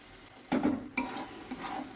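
Spices and salt stirred into a frying pan for palak paneer, a soft sizzle with two sharp scraping strokes of a spoon against the pan, close and fairly quiet.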